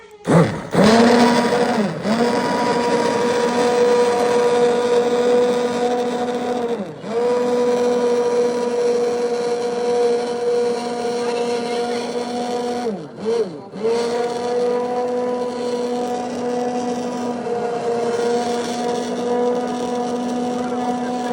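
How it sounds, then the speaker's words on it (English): Electric mixer whirring steadily as it blends homemade tomato ketchup, a loud close motor hum with brief dips in speed around a few points. "Now we're going to stir it up a little bit with this mixer."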